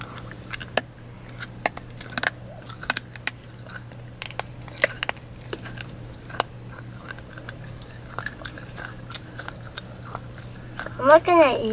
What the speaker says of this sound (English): Now put it in your mouth and chew with your mouth open